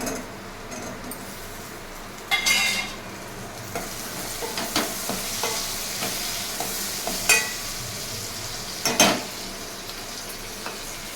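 Prawns frying in a pan with onion, green chillies and karonda, a steady sizzle broken by a few sharp stirring scrapes and clinks, close and alone with no talk.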